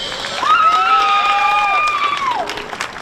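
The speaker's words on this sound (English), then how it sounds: "Give them all a big, big round of applause." Crowd applause and cheers at a junior livestock show, loud clapping with whistles and high shouts over it, sustained for a few seconds before tapering.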